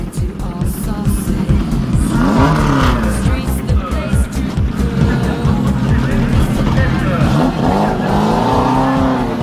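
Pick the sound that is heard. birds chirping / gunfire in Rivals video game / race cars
race cars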